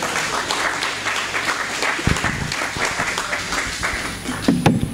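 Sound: audience applause

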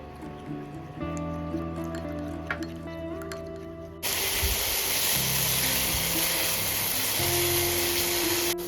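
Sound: gravy sizzling while frying in a pan

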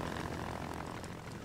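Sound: propeller airplane flying

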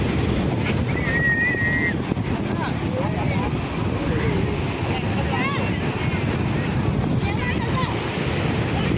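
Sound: sea waves surging at a beach

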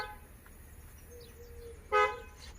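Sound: car horn honking

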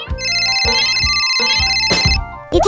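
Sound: telephone ringing

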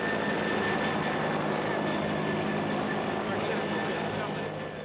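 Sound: police helicopter searching streets

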